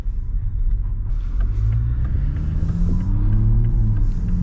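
A Toyota Supra A91 CF-Edition shifted into drive gives a steady low engine rumble inside the car, a smooth idle that swells slightly with a faint rising tone and no voices.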